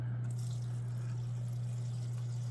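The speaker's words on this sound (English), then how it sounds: "I just want to get the water flowing." Steady rushing water flowing continuously through a waterfall spray booth under a constant low mechanical hum, filling the whole stretch without a break.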